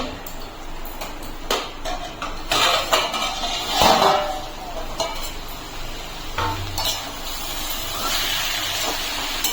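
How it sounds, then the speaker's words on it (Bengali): A lid is lifted off a pot of vegetarian papaya and potato ghonto cooking on a low gas flame, giving a brief metallic clank followed by a soft, steady hiss of steam and simmering. "ঢাকা খুলে নিচ্ছি।"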